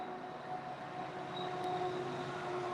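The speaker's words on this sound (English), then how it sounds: "That train's a little late this morning." A train passes at a distance in the morning, a steady low rumble with faint whining tones holding throughout, fairly quiet and with no one speaking.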